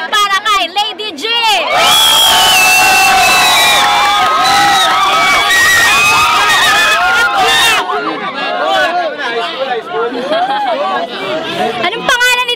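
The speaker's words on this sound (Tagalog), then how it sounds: "mag-ingay para kay Lady G!" Loud, dense crowd at a street rap battle cheering and shouting for a contestant, a roaring wall of whoops and screams that swells and stays high throughout.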